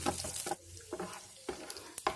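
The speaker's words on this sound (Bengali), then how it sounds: "কিশমিশটা আমি 30 সেকেন্ডের মতো ভেজে নেব" Raisins and cashews fry in oil in a wok, a faint sizzle broken by several close, sharp scraping stirs at an uneven rhythm.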